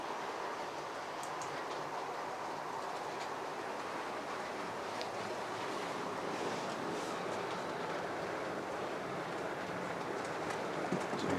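A Hornby Bristolian model train pulling four extra chocolate-and-cream coaches climbs an incline from a standing start, giving a steady, continuous close rumbling whir with faint rail clicks throughout.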